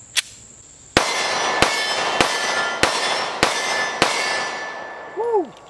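Six sharp, loud gunshots from a Kimber Solo Carry pistol firing Federal 135 grain Hydra-Shok rounds, spaced roughly half a second apart with ringing decay, followed by a brief whistle-like tone.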